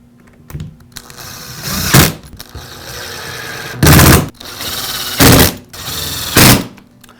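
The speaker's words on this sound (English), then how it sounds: "And secure it with the screws." Cordless power screwdriver driving screws into the plastic housing of a Milwaukee cordless drill, four short loud whirring bursts separated by pauses, with quieter handling and rustling between them.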